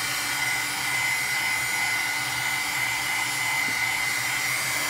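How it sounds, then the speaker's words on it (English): A heat gun blows a steady, loud whooshing hiss while warming modeling paste, running continuously and unchanged at close range with no talking. "to constantly move the heat gun around"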